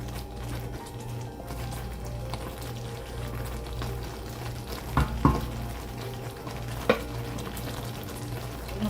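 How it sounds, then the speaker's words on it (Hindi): Shrimp frying in hot oil for a sweet and sour shrimp dish, a steady dense sizzle with a low hum underneath and a few faint clinks from utensils. "अब हम जो है श्रिम्प फ्राई करेंगे।"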